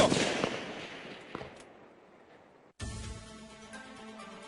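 Sniper rifle shots crack out at night during target practice, with one sharp loud report at the start, another fainter shot mid-clip and a long fading echo, then a sudden louder burst of noise.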